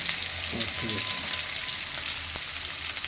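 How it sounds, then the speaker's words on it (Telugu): Onion, green chillies, carrot and capsicum fry in a pan with a steady close sizzle. A few brief stirring scrapes sound near the start. "ఇవన్నీ ఫ్రై చేయాలి కొంచెం దూరగా మరి ఎక్కువ కాదు"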